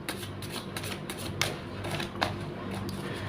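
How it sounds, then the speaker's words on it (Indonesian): Tarot cards being shuffled by hand, a soft continuous riffle of papery flicks with a few sharper snaps, close and quiet, with no talking. "Langsung saja saya shuffle kartunya."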